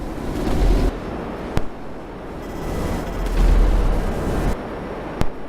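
Video-game missiles fire and explode in a continuous rumbling barrage of deep booms, with two sharp, loud cracks cutting through the roar.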